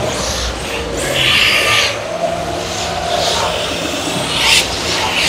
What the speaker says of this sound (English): Got some electric cars over there doing a bit of drifting.